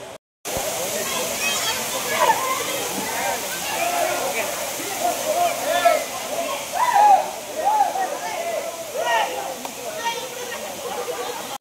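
Amruthadhara waterfall at a slippery forest site in Maredumilli, a steady broadband rush of falling water that fills the scene throughout, with people talking faintly over it.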